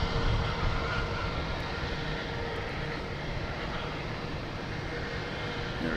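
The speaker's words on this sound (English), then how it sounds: "Next taking off with JetBlue and A321 heading to Los Angeles." Airbus A321 taking off at Boston Logan, a steady broadband jet roar that holds at an even level, moderately distant, with no talk over it.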